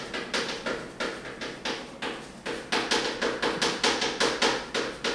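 A hammer repeatedly pounds salt crystals, giving a fast run of sharp, crunchy taps that speed up toward the end, moderately loud and close, with no voices.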